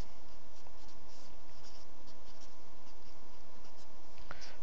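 A pen drawing a line on paper: a soft, steady scratching and scraping held close under a constant background hiss, with a small tap near the end.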